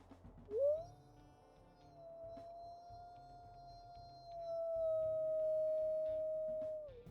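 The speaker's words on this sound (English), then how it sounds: "She's got quite a high pitched howl overall, it sounds like." A higher-pitched wolf howl from a video game sweeps up sharply, then holds as one long sustained note that grows louder in its second half. A faint low background murmur runs underneath.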